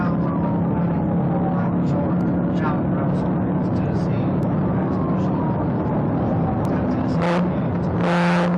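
A Dodge Challenger fleeing a police car accelerates hard, its engine a steady, loud drone under constant road roar through the whole stretch, with a brief rise near the end.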